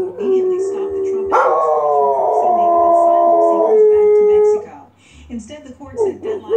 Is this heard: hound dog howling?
yes